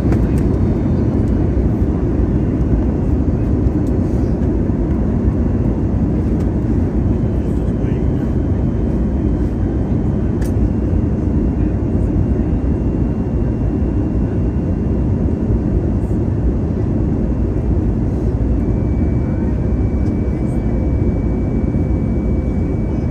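Steady, loud cabin drone of an American Airlines Airbus A321neo descending to land, a constant low-frequency roar from engines and airflow filling the whole stretch without change.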